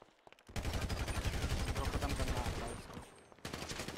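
Rapid gunfire bursts from a GTA roleplay game, loud and sustained for a few seconds with dense repeated shots, a brief pause, then more shots resuming near the end.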